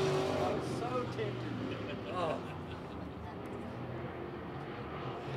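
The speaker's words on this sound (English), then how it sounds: "Jeff Robinson down the back straightaway, less than half a lap to go as he glides through turns 3 and 4" Open wheel modified race cars on the track at Lavonia Speedway, a steady roar of engines droning past at a distance beneath a commentator's voice.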